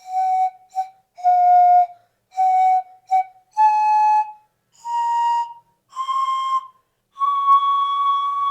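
An Andean siku panpipe plays a slow series of breathy, whistle-like tones, eight separate notes with short gaps, clear and close with no voices.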